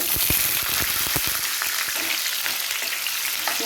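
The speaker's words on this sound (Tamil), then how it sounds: "வெங்காயம் போட்டாச்சு. இதெல்லாம் நல்லா வதங்கிடும்." Garlic and onion sautéing in oil with mustard seeds, lentils, fenugreek and cumin, a dense continuous sizzle with quick popping crackles early on, close and steady, no voices.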